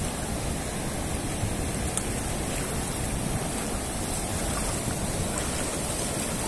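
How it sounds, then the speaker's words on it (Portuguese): Steady broadband rush of surf washing continuously, like waves breaking on the shore at Praia Grande on the São Paulo coast at moderate distance, with no voices. "Olha as ondas aí, pessoal."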